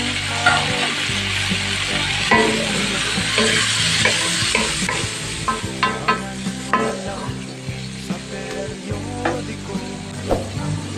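Shrimp fry in a hot pan with a steady sizzle, punctuated by repeated spatula scrapes and taps as they are stirred. The sound is close and fairly loud.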